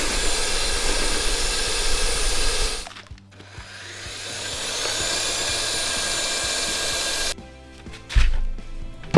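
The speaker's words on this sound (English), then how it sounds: "I use the vacuum chambers again" A steady mechanical drone of a vacuum chamber pump runs for several seconds, with a hum underneath, then cuts off, followed by a few clunks and rattles.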